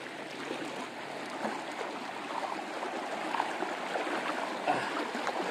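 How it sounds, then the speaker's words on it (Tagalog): A strong river current flows steadily at a rainy outdoor spot with sand and trees nearby, a continuous broadband wash of moving water close by with faint scattered splashes and no talk. "Ang lakas ng agos"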